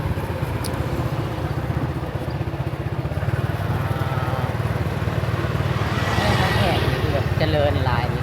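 Motorbike ride through a riverside market town in Laos, a steady low engine drone with road and wind noise, a person talking throughout.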